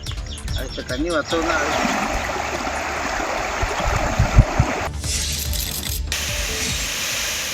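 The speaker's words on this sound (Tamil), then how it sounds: "தொடர் மழையால் நந்தி ஆற்றின் குறுக்கே அமைக்கப்பட்டிருந்த தற்காலிக பாலம் நீரில் அடித்து செல்லப்பட்டது" River water rushing loudly after continuous rain, a steady broadband roar swollen enough to wash away a temporary bridge across the river, with faint mechanical clicking near the start.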